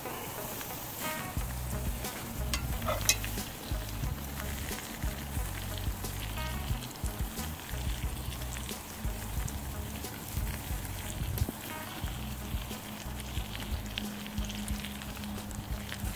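T-bone steak sizzling in butter in a hot pan, a steady close frying crackle that runs without pause and stays even in level throughout.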